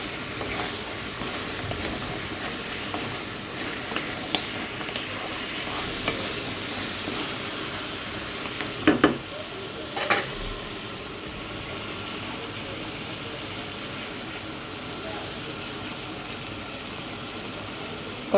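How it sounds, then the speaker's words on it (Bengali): Meat curry with spices being stir-fried in oil, a steady sizzle running throughout with scraping stirs, and a couple of sharper clatters of a spoon against the pan around the middle. "এটা একটু ভাজা ভাজা ভাবেই আমি কষাবো।"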